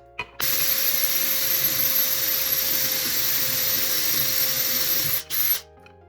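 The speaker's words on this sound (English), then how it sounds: "I just need to drill out the holes to match the bolt size" A steady, loud, high-pitched whine of a power drill drilling out bolt holes in a motorcycle brake master cylinder, running continuously for about five seconds, then a brief stop and short burst at the end.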